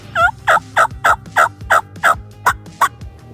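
A wild turkey in a field gobbles in a rapid rattling burst, followed by a run of about eight regular, loud, clucking pulses.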